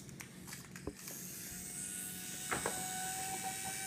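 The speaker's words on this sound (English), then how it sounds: "And the microcharger. See that sound?" A toy car's micro charger motor whirs faintly with a thin high whine, accompanied by a few clicks and handling noises nearby.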